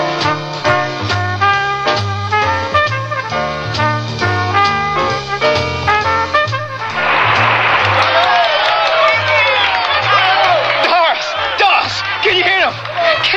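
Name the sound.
crowd applause and cheering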